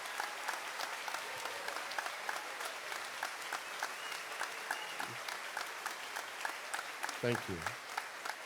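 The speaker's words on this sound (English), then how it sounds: "Please give these folks a round of applause." Audience at the 2019 Highland Middle School graduation applauds teachers and staff, a steady, fairly soft wash of clapping throughout, with a brief spoken thanks near the end.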